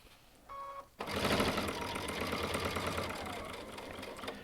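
A Baby Lock Altair sewing machine stitches through a thick stack of denim layers, starting abruptly after a brief beep and then running as a loud continuous whir that eases slightly toward the end.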